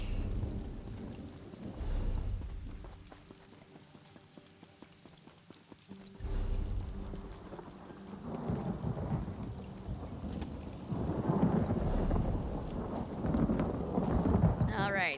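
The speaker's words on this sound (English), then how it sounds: "that was a loud clap of in-game thunder." In-game thunder and rain from a fantasy role-playing game: rumbling thunder claps swell and fade over a steady wash of rainfall, fairly loud, with no one speaking.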